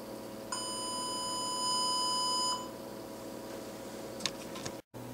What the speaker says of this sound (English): We can also change the shape of the wave to a square wave, which should sound somewhat louder than it was previously.